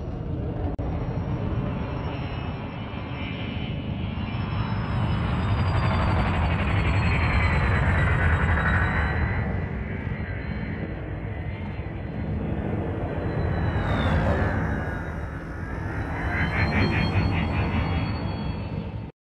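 Spaceships in the space game Elite: Dangerous sweep past the camera, a dense engine roar with rising and falling whooshes and high whines as craft fly by, loud and continuous with no talk.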